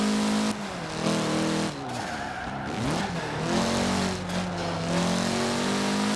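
Mitsubishi car in the racing game Forza Horizon 4 revs hard with a loud, steady engine whine, rising and falling pitch and turbo whoosh, plus bursts of tire squeal, with no talking.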